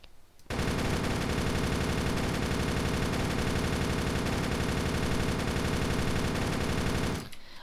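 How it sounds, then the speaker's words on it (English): MG240 machine gun in the shooter game Darkest Days unleashing one long, dense burst of rapid automatic fire, loud and close, running steadily for about seven seconds before cutting off abruptly, with no talk over it. "this weapon feels like it's doing some kind of a crazy burst fire"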